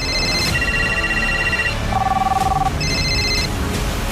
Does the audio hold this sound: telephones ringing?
yes